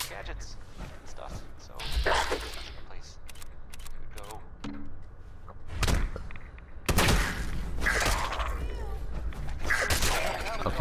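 In Fallout 4, gunshots crack out amid in-game rattles and clatter, with a couple of loud broadband blasts and crashing noise in the second half, heard under a player's talking.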